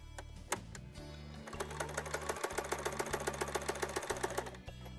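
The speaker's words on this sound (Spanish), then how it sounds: "lo marco y lo paso por la máquina de coser." A sewing machine runs steadily, stitching fabric for a homemade medicine case, its rapid mechanical clatter repeating in an even rhythm for several seconds, close and moderately loud, with brief pauses near the start.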